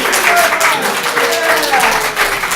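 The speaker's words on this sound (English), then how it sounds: "let's start clapping and yelling and stuff like that" Conference audience clapping and cheering at a JavaScript talk, a dense wash of applause and shouts filling the room steadily for under three seconds, with voices yelling throughout.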